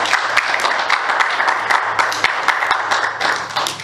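Congregation applause offered to the Lord during a church sermon, a dense, steady crowd of clapping hands that holds at full strength throughout.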